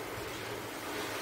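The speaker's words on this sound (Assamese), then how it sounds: "বঢ়িয়াকৈ উতলিছে।" Lentil curry boils vigorously in a pot, a steady, dense bubbling and hissing wash that stays even and close throughout without a break.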